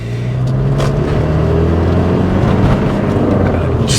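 A Rover Streetwise TD diesel car drives along steadily, with a continuous low engine drone and road noise heard from inside the cabin. The sound stays loud and even throughout.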